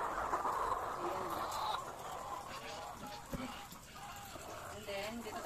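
Chickens in a second poultry house cluck and chatter steadily, with a dense, continuous flock murmur and occasional sharper calls rising from the group.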